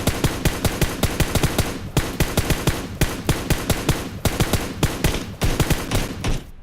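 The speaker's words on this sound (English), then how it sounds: "this is for the purpose of showing you guys recoil control and going full auto." Full-auto rifle fire in PUBG Mobile, long rapid bursts of loud close shots in tight rhythm, broken by a few short pauses between strings, with no talking.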